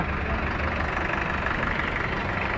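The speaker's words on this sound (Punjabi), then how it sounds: "ਅਗਲਾ ਟਰੈਕਟਰ ਆਪਣਾ ਆ ਗਿਆ ਜੀ ਸਵਰਾਜ 735 ਐਫਟੀ" A 1994 Swaraj 735 FE tractor engine idles steadily nearby, a continuous low rumbling throb with no change in pace and no talking.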